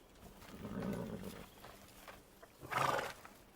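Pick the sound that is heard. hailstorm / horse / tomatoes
horse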